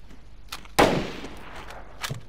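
A single sharp gunshot in a multiplayer stealth shooter game rings out with a decaying tail, followed by a fainter distant crack near the end, over a quiet background.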